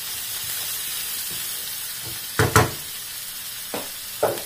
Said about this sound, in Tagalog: Put the chicken cubes.